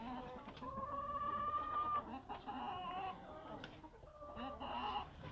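Chickens and young roosters cluck and call in a poultry yard in winter, several birds trading short, overlapping vocalizations at moderate distance.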